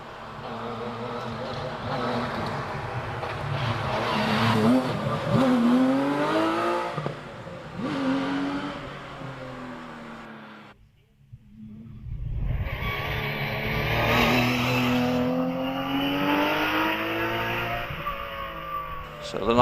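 Porsche 911 tarmac rally car on a Prescott hillclimb run, engine note rising and falling through gear changes and fading, with a commentator talking over it before another car approaches loudly.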